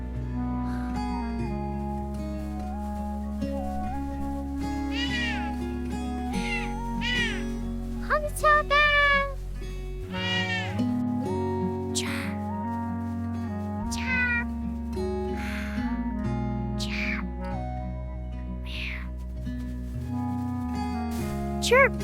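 An animated mama cat gives repeated rising and falling meows, probably voiced by a person imitating a cat, scattered over a steady bed of background music.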